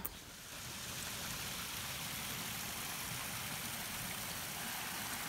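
Water rushes steadily past in a Sierra meadow stream, a dense even wash of broadband noise that holds constant and fairly soft throughout, with no voices.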